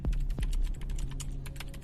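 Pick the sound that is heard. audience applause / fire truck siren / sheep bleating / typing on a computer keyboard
typing on a computer keyboard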